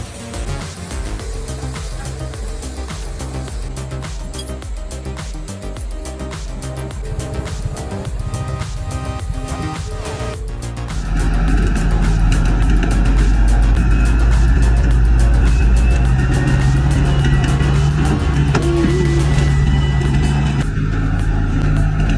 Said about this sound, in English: The engine of the Xaxis 210F operates stably.